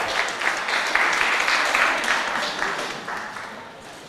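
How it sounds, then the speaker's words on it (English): An award ceremony audience applauds as honorees come on stage for a plaque, a broad, continuous wash of clapping that gradually thins toward the end. "Please, a round of applause as they come on stage to receive the plaque"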